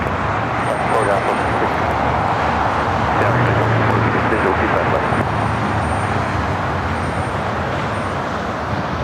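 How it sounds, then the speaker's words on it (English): An Alaska Airlines Boeing 737 MAX 9 takes off at LAX, a loud, continuous broadband jet roar that holds steady throughout, heard from fairly close. "Next takeoff is Alaska Airlines headed to Seattle and a 737 MAX 9"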